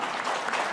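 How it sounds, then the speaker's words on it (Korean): A church congregation applauds during a sermon, a brief burst of steady, moderately loud clapping from many hands. "오늘 한 번 더 하나님께 박수를 드리겠습니다"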